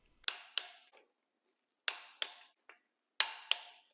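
A torque wrench clicks on ARP cylinder head bolts being torqued to 25 foot-pounds in a quiet workshop. The sharp clicks come in close pairs, with short pauses between them and faint handling noise.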